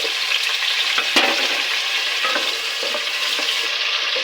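Potatoes frying with garlic in a pan for aloo palak, a loud continuous sizzle with occasional sharp scrapes and clicks of stirring.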